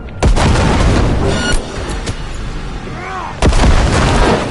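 Grenade blasts in Cyberpunk 2077 crack out as loud, booming bursts, one near the start and another near the end, with rumbling gunfire and a brief voice in between.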